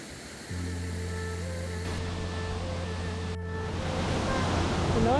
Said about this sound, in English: You can hear the falls in the background.